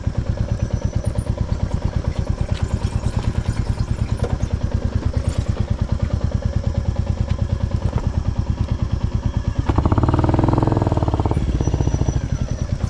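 A Classic 350 motorcycle engine chugs nearby at a steady, rhythmic low throb on a rough mountain trail, then revs up louder for a few seconds near the end.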